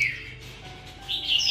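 A caged red-whiskered bulbul gives a few bright chirps, one at the start and a couple more near the end, close by with no talk over them.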